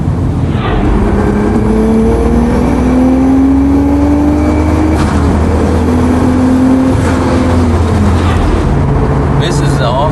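Tuned turbocharged car making about 400 horsepower to the wheels and running around 50 pounds of boost, pulling hard through the gears with a loud, steady engine drone and rising tones under a rushing whine.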